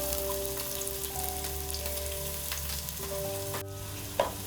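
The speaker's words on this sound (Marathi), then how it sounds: "आम्ही कांदा टाकतो फोडणीला." Chopped onion goes into hot oil with bay leaf as a tempering for a spicy crab curry, giving a steady, close sizzle and hiss that runs without a break, with a faint tonal hum behind it.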